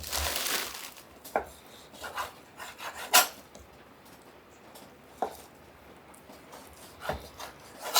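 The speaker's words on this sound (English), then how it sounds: "take my chuck roast and cut that into 1-inch cubes" A knife slices beef chuck roast into one-inch cubes on a wooden cutting board, giving soft scraping strokes and sharp taps at irregular intervals, close and fairly quiet with no talking.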